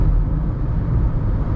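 A low, steady rush of wind noise fills the cabin of a 2012 Jeep Liberty at highway speed, constant and fairly loud, with deep road rumble underneath and no talking.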